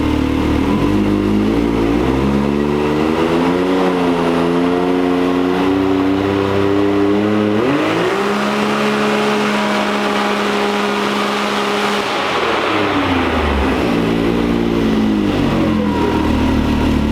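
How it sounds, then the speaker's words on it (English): 2022 Can-Am engine on a test pull, loud sustained revving that climbs in pitch, drops and settles at a steady high speed, then falls and rises again, with no talk over it. "we're gonna make another pull just to see, to check the engine speed"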